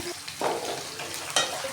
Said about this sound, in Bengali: আলুগুলোকেও হালকা ভেজে নিতে হবে